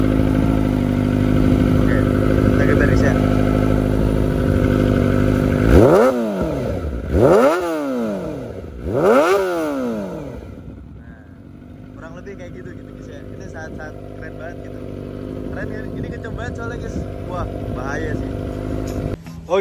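A Kawasaki Ninja ZX25R fitted with a Pro Speed exhaust idles with a loud, steady drone, then snaps through several sharp revs that rise and fall before settling back to a rumbling idle, heard up close in a residential area.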